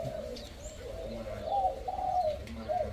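Soft, rounded coos from a decoy dove repeat in a gentle rhythm against quiet outdoor background noise.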